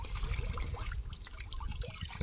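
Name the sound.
water trickling at the village water source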